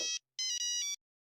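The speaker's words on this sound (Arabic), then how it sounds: "استنى دقيقه اشوف مين اللي بيرن علي" A mobile phone ringtone sounds: a short electronic chirp, then a longer bright melodic trill after a brief gap. It is loud and clear with no voices.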